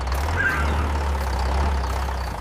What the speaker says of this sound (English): We need to get this tractor to the main barn now.